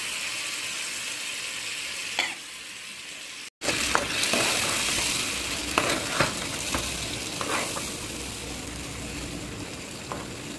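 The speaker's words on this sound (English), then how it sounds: "Now let me fry mimi. So let me start putting inside the pan." Wai Wai instant noodles fry in a pan, a steady close sizzle with scraping stirring clicks, pausing briefly midway before the frying resumes louder.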